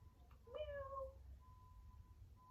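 A voice imitates a cat's meow during a children's yoga session: one drawn-out, rising-then-falling meow, fairly close and clear, followed by a faint sustained tone over quiet background noise.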